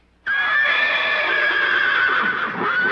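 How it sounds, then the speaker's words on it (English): A horse gives one loud, shrill neigh that begins abruptly and holds for more than two seconds, close and clear against a quiet background. "Let that horse go!"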